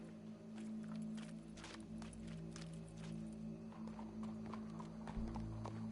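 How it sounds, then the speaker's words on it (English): Horse hooves clip-clopping at a walking pace, a steady run of hollow knocks that sounds fairly distant and faint, with a low rumbling background. "Go brush that horse, officer."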